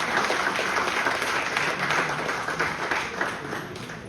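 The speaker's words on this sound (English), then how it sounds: "please give a big round of applause for Manna sir" Audience at a university's international conference valedictory ceremony breaks into a big round of applause, dense steady clapping close by that carries throughout and eases slightly near the end.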